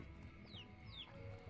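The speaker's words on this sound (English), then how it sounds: "There's a chicken." A chicken in the video game Slime Rancher gives two short, faint clucking calls over a quiet background hum.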